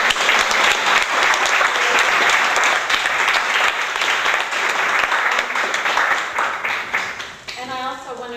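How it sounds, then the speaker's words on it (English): A panel audience applauds after a 2002 performance art discussion: dense, steady clapping fills the room at full strength for about seven seconds, then thins and fades near the end. "I think we should give a round of applause to you"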